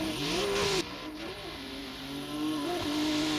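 Drift car pulling away hard from a competition start line, its engine revving up in a rising, loud pitch sweep, easing briefly, then climbing again as it accelerates close by.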